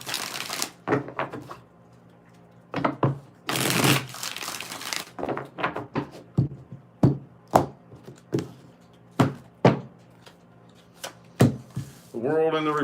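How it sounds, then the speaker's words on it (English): Tarot cards being shuffled, with repeated sharp riffling and tapping bursts in an irregular rhythm, close and crisp, plus a few longer shuffles in a quiet room. "Two more shuffles here."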